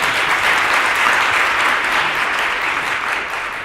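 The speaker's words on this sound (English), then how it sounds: "Can we give them a round of applause for just being here?" Audience applause for a panel of men at a conference, a dense, steady wash of clapping that holds loud throughout and eases slightly near the end, with no voices over it.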